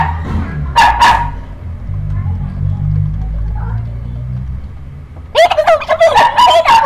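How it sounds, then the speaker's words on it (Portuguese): A pet dog barking indoors in short bursts, a couple of barks near the start and a rapid volley of barks at the end, loud and close, with a quieter stretch between. "Meu cachorro tá latindo, eu não gosto de ele latir!"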